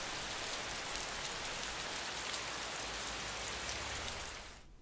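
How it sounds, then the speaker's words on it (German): Rain falling on a surface makes a dense, continuous patter and hiss that holds steady, then fades out at the very end, with no voices. "oder Regengeräusche."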